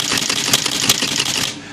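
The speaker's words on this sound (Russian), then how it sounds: "это у нас... переключение строки и затяг бумаги" Robotron 202 electric typewriter carriage advancing the paper on a line feed, a loud close run of rapid mechanical clatter and ratcheting with sharp clicks, then stopping abruptly.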